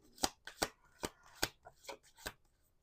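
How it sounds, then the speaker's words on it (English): Close, crisp bursts of cards being shuffled, about seven quick riffling snaps in a row, tapering off at the end. "We're gonna do 2 more shuffles."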